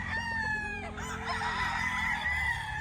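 Black Gilmore stag rooster with a straight comb and long tail, at a game farm, crowing loud and close in a drawn-out call, with other fowl clucking and calling around it.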